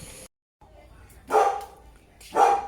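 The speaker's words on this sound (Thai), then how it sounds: "ได้ยินเสียงหมาเห่าบ่พี่น้อง" Dog barking at a house with a vegetable garden in Australia, two loud, close barks about a second apart, heard alone after a brief silence.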